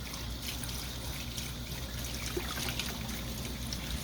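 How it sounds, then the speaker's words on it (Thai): Cold tap water runs steadily onto freshly boiled khanom jeen rice noodles as they are rinsed, a continuous close trickle and splash with no talking. "เดี๋ผมเปิดน้ำเย็นใส่ก่อนให้มันค่อย ค่อยเย็นไปเรื่อย ๆ"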